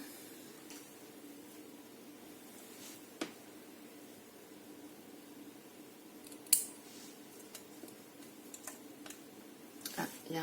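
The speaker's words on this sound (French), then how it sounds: "Alors il va falloir que je coupe." Faint scissor snips as hot glue threads are trimmed on a DIY wicker circle, a few sparse, quiet clicks spread over a hushed room background.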